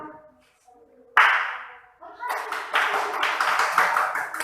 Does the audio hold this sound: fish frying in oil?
no